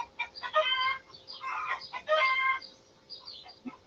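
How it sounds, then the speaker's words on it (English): Chickens clucking and calling on a farm, several birds in bursts of sharp, harmonic cackles close by, with pauses between, ending in softer scattered clucks. "The chickens are having a heyday out here. All kinds of noises."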